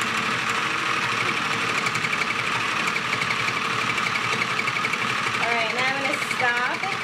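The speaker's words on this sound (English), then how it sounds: "So you'll see it's like the needles are rapidly going up and down and up and down" A Sew Cool toy sewing machine by Spin Master runs continuously with a steady, rapid mechanical chatter of needles moving up and down, close and fairly loud throughout.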